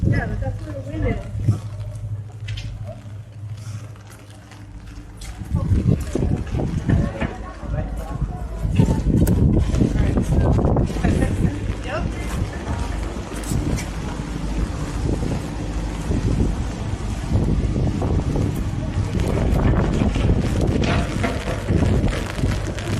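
Strong wind gusts buffet the microphone beside Lake Como in Bellagio, turning into a heavy continuous roar after the first few seconds, with voices faint underneath.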